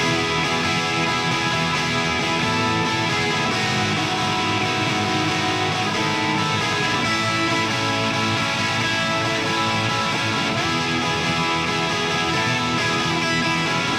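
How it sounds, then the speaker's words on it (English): Dense, layered rock guitars play together in a full, steady wall of sound, several parts stacked into one driving chorus with no voices. "There are 3 guitar parts that are the foundation of the chorus sections."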